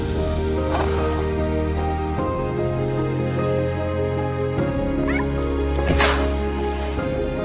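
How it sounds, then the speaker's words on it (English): Hunting dogs bark and yip during a wild boar hunt in California, producing a layered chorus of excited barks and whines that are loud and fairly close, running continuously over a steady background rumble. "the dogs erupted again."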